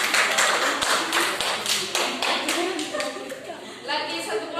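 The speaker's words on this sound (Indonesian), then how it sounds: "tepuk tangan untuk kelompok" Children in an elementary school classroom clap for a group after a science lesson on the water cycle, a burst of rhythmic hand claps with some chatter and laughter underneath, fading as talk resumes.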